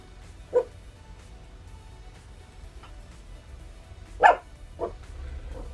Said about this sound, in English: She's barking in the middle of my video.